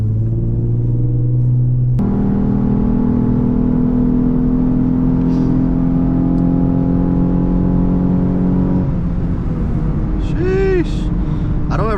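A Lexus IS350 in Sport Plus mode, with a loud, close engine drone and rumble that holds steady, then climbs in pitch as the car accelerates near the end.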